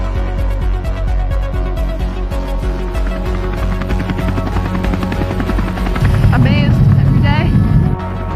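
A helicopter's loud, steady rotor drone fills the whole stretch as it flies at about 70 knots, growing heavier near the end, with a voice talking over it.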